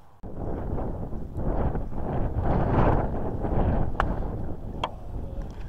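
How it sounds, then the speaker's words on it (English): Strong wind buffeting a microphone on a golf course, a dense, roaring rush that holds steady for several seconds, close and loud, with a few faint clicks near the end. "It's a strong wind"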